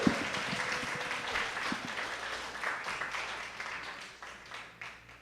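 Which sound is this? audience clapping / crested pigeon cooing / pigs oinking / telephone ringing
audience clapping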